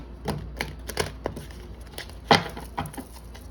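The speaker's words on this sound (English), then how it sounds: "I'm just going to do a quick shuffle here already." A deck of tarot cards is shuffled by hand, giving a quick run of crisp, irregular clicks and taps close up, with one sharper snap near the end and no talking.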